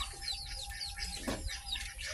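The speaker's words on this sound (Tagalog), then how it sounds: "Tapos sa unahan naman meron tayong manok naman." Free-range chickens in a rural province yard, soft clucks and small chirping calls scattered close by over a low background hum, with a brief louder cluck near the middle.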